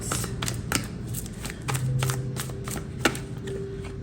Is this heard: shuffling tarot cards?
yes